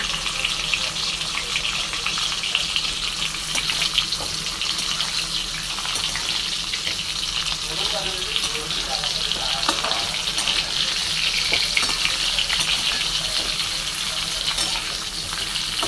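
Sliced bitter gourd sizzles and crackles steadily as it fries in a pan, with occasional scraping as it is stirred, a continuous close hiss throughout with no talking.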